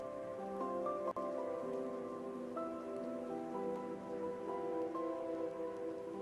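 Steady rain hisses softly in a theme park building game, a constant wash of falling drops under sustained tonal background music, with no voices.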